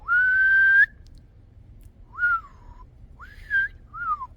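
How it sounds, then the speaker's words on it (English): A blade of grass stretched and blown through as a reed gives a long, steady, piercing whistle, then three shorter rising-and-falling squeals, loud and close, with no other sound. "That way it's like the blade of grass starts to whistle."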